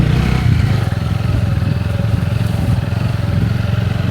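A motorcycle being ridden gives off a continuous low engine drone close by, with some rattling clatter mixed into the steady rumble.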